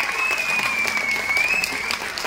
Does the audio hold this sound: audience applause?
yes